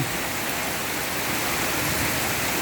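Heavy rain pouring down, a dense, even hiss of water that stays steady and close throughout with no voices over it.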